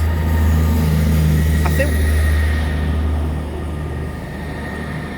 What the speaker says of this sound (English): I'm just going to wait for the train to go.